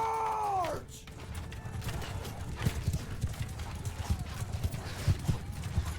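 Cavalry horses gallop in a Bannerlord battle: dense hoof clatter under a rumbling low wash, with a brief whinny near the start, close and steady throughout.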